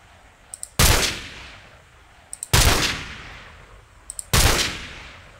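Three loud, sharp gunshots from a Flans Mod gun in Minecraft, evenly spaced about two seconds apart, each preceded by a faint double click and trailing off in a decaying roar.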